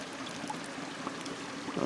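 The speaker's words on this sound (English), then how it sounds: "A little trickle of a creek keeps going there." A small creek trickles over rocks in a winter woodland, giving a steady, faint, continuous babble of running water heard alone without talk.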